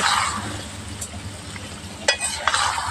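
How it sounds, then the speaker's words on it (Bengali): Chicken and potatoes stirred and fried in a pan give a continuous close sizzle with scraping strokes of a utensil, and a couple of sharp clinks against the pan toward the end. "এই যে চিকেনটাকে নেড়েচেড়ে এই যে কষিয়ে নেওয়া হয়ে গেছে"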